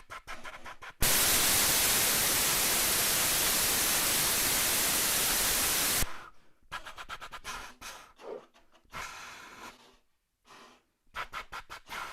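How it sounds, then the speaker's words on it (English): A loud, steady hiss of electronic white noise runs for about five seconds, then cuts off to scattered quieter clicks and brief bursts. "that white noise sound matched really well"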